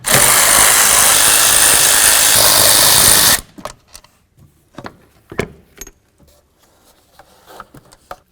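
A power tool whirs loudly for a few seconds while unbolting a car computer mount on a Jeep Compass, then stops, followed by scattered clanks and rattles of metal parts being handled nearby.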